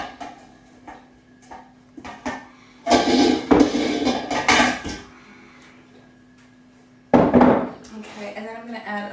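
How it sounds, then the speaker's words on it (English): Chicken carcasses going into a stock pot for homemade stock, heard as a series of clunks and clattering knocks against the pot in short bursts, with a person talking between them. "So I'm going to put these into the stock pot."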